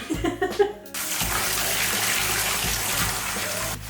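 Water gushing from a tap into a large copper bathtub, a close steady rush that starts abruptly after a short pause and runs continuously.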